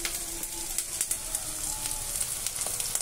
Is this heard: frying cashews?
yes